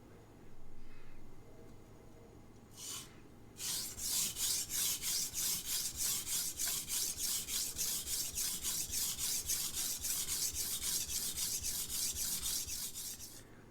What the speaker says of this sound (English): Here's the King 300 after 30 passes per side